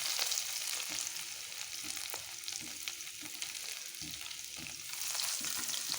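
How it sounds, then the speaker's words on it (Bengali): Chopped garlic and split dried red chillies fry in oil as a tempering for a greens dish, giving a continuous, bright sizzle with scattered stirring clicks and no voices. "হালকা ব্রাউন কালার করে ভেজে নেব"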